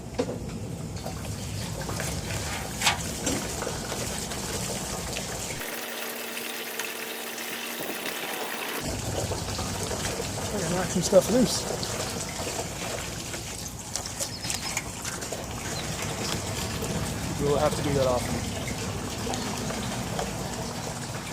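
Water is poured and run through a garden spout outdoors, splashing and gushing steadily with a brief quieter gap, while someone speaks intermittently nearby and birds call faintly in the background.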